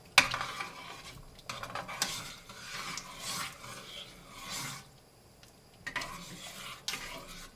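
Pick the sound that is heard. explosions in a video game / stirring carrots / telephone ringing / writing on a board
stirring carrots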